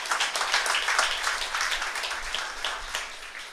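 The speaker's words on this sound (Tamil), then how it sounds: "அதற்கு நமது ஆதரவையும் மகிழ்ச்சியையும் நல்ல ஒரு கரகோஷத்தின் மூலம் தெரிவிக்க வேண்டுகிறேன்." A community association gathering in Madurai breaks into steady, moderately loud crowd applause, with dense overlapping claps sustained evenly throughout, no voices above it.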